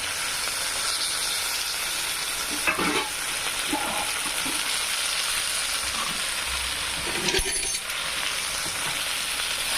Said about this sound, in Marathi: आपल्याला त्या भाज्याला व्यवस्थित फ्राय करायचं आहे. मस्तपैकी भाज्या फ्राय होऊ द्यायच्या